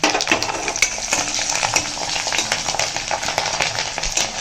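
Peeled, washed garlic drops into hot oil with fried dal and turmeric for pepper kuzhambu, bursting into a loud, close, steady sizzle and crackle with some stirring.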